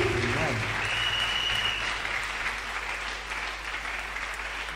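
A church congregation claps in a dense, sustained wash of applause that fills the whole stretch evenly, fading slightly toward the end.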